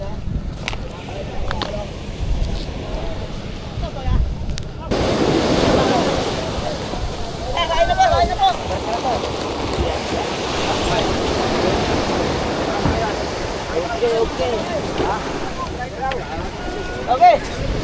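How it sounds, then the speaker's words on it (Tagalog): Wooden outrigger boat (bangka) pushed off through breaking surf at the beach, a steady rush of waves and churning water with wind buffeting the microphone; people talk over the splashing. "Tinutulak na yung ating bangka."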